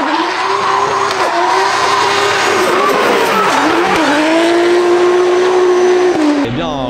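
Drift car tires squeal loudly and continuously through the first corner at Calmont, the pitch wavering as the engine howls underneath, then cutting off abruptly near the end; faint commentary runs beneath.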